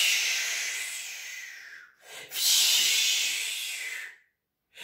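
A voice imitates the wind with a long breathy whooshing hiss that rises and falls. It breaks off briefly, swells again, then fades out.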